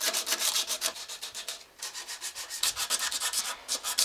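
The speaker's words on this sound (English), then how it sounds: "We're gonna sand down, I think, everything you want it to stick to" Rapid rhythmic scuffing strokes of sandpaper rubbing on a carbon bike frame, close and clear, in quick bursts with a short pause midway.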